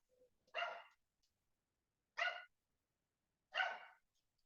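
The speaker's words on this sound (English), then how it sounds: "Sorry for my dog." A dog barks three separate times indoors, each a short sharp bark spaced over a second apart, with silence between.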